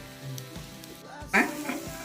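Chicken pieces drop into hot masala in a pan for a home-style chicken thoran, giving a faint, crackling sizzle that swells briefly partway through, with soft background voice.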